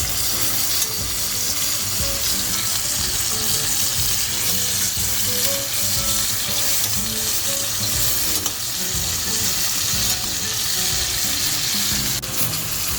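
A tomahawk steak sizzles loudly and steadily in a hot pan while being basted with fat, a continuous dense frying hiss with faint spoon and liquid sounds, no talking.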